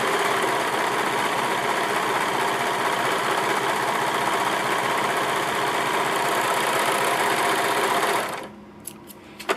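A serger runs a seam along fabric with a fast, steady mechanical whirring and chatter that continues loudly, then stops abruptly near the end, leaving a few faint clicks.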